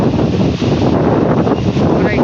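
Strong wind buffeting the microphone at the seashore in Pitan City, with big waves nearby, a loud continuous roar and rumble that stays unbroken from start to end.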